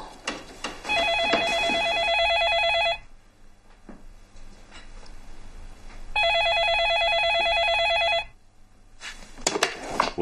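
A telephone rings indoors in two long, loud bursts of steady electronic trilling, separated by a quiet pause with faint room noises and a brief rustle at the end.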